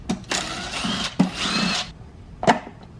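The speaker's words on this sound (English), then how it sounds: "we're just gonna go ahead and put back the 2 screws" Screws are being driven back into an intake sensor during a BMW M3/M4 S55 performance intake installation, heard as a few short scraping, rasping bursts of a screwdriver turning, close and distinct, separated by brief pauses.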